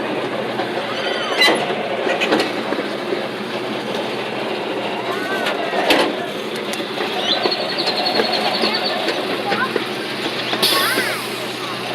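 A ride-on train rolls along its track through an animal park, a continuous close rumble with rhythmic clatter and occasional squeaks, while someone talks over it.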